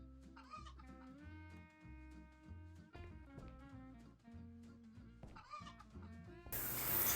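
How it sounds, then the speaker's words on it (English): A chicken clucks in the video game Hotel Renovator, quick repeated clucks laid over game music, ending in a sudden loud burst. "your first task is chasing down a chicken and tossing it out a window"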